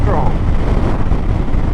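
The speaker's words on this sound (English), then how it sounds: "that wind is pretty strong" Strong wind buffeting a microphone on a motorcycle tour through valleys of New Zealand's South Island, a loud, dense, continuous roar with low rumbling gusts filling the short stretch.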